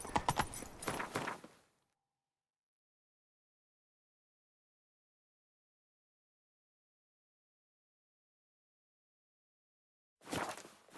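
Hooves of Roach, the horse in the video game Witcher 3, clatter in a quick galloping rhythm for about two seconds. Near silence follows, then a brief burst of hoofbeats returns at the end.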